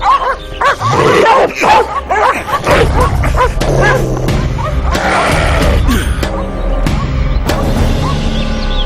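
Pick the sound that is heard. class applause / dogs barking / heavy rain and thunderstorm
dogs barking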